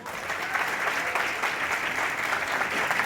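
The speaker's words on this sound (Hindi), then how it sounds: "पहले तो उनके लिए जोरदार ताली." Steady, dense applause from a large crowd, loud and sustained throughout with no pauses.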